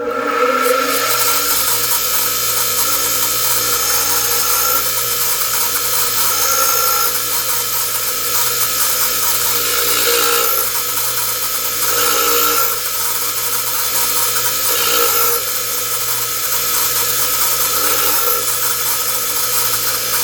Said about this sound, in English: And that's all I do to sharpen drill bits.